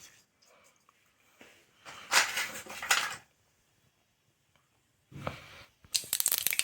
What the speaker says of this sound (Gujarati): હવે તેલ ગરમ થઈ ગયું છે તો વઘાર માટે થોડીક રાઈ